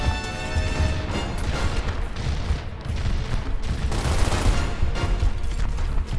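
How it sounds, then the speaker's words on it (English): Enemy gunfire in the video game Gears of War on Insane difficulty, a dense, loud, continuous barrage of shots and crashing impacts with no letup. "I hear him shooting."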